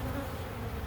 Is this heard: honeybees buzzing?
yes